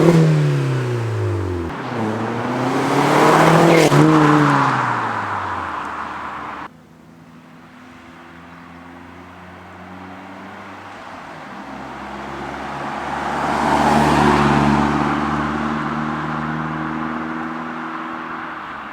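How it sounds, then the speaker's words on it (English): Vauxhall Astra VXR Mk5 with a Toyo back box and sports cat revs hard twice, the exhaust rising and falling in loud sweeping bursts separated by a quieter idle, with no talking. "Let's hear what this exhaust can do."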